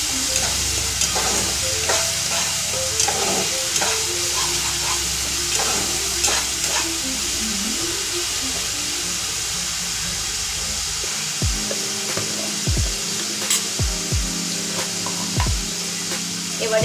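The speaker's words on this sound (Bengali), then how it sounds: "এটা দিয়ে আমি ভালো করে কষিয়ে নেব।" Katla fish curry masala being stir-fried in a pan, a steady close sizzle with spatula scraping and stirring clinks running throughout, a few sharper knocks near the end.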